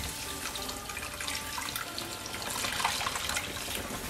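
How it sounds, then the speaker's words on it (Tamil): Water poured from a tap or jug into a pan of egg curry masala, the onion-spice base already well sautéed and cooked through, giving a steady, close splashing stream that swells slightly toward the end, with no voices. "சோ இப்போ தண்ணி ஆட் பண்ணிக்கலாம்"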